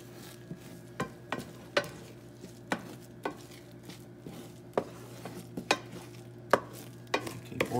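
Scrambled eggs worked around in a pan, with repeated sharp scrapes and taps of a utensil against the pan at an uneven rhythm over a soft, low sizzle.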